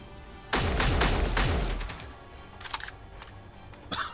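A turret in Space Engineers opens fire with a loud, dense burst of rapid shots lasting over a second, followed by scattered fainter impacts and a few sharp clicks.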